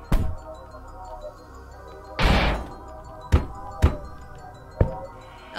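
From the video game Ib, heavy thuds bang against a door as someone breaks in: a sharp knock, a louder crashing blow, then three more spaced single bangs over a low hum.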